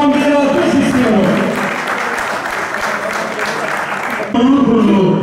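An audience at a political party gathering bursts into loud, sustained applause, dense clapping throughout with a voice speaking over it near the end.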